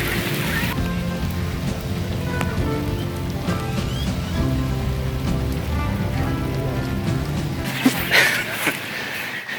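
Steady rain falls on surfaces during a rainy day in India, an even close hiss with scattered drops throughout and a brief louder splash or rustle near the end.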